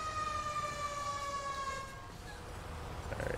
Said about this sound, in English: Alright, engine two's pulling up.